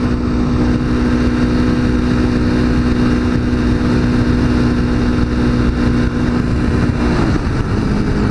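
A yellow Kawasaki Ninja motorcycle cruising on the road, its engine giving a steady, loud, close drone with constant wind rush and no change in pace throughout.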